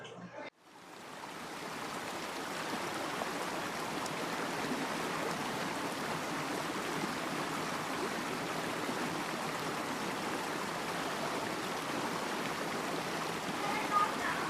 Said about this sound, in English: So the river runs through it, the restaurant.